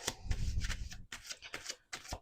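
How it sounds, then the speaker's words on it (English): A deck of cards being shuffled by hand, close up, in several quick riffling bursts separated by short pauses, with no talking. "Let's do 2 more shuffles."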